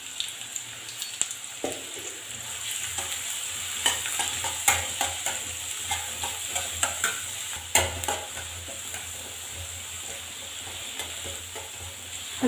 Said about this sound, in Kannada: ಹಸಿ ವಾಸನೆ ಹೋಗೋವರೆಗೆ ಸ್ವಲ್ಪ ಚೆನ್ನಾಗಿ ಫ್ರೈ ಮಾಡೋಣ ರೀ.